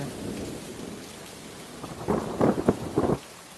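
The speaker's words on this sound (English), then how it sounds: "Oh, it's raining." Steady rain on surfaces with a few rumbling thunder bursts rolling in toward the end of a short stretch, no voices.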